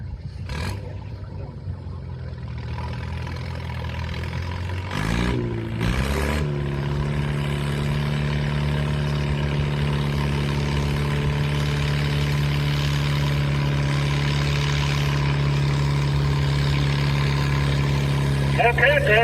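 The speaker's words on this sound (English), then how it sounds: "Gary Kessmeyer on an Allis Chalmers WD built 1950" A 1950 Allis Chalmers WD antique tractor idles at a tractor pull, its engine a steady low rumble that settles into an even drone after a brief rev, with announcer speech over it.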